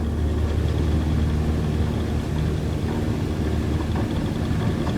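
Aircraft engine at takeoff power in Microsoft Flight Simulator 2020, a loud, steady broadband engine roar with low rumble that holds evenly throughout, with no voices.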